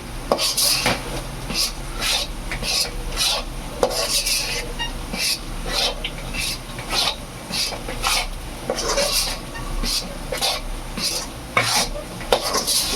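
Carrot malt mixture stirred in a pan with a spoon, scraping and clinking against the metal in a steady rapid rhythm, with a faint sizzle beneath, close and alone.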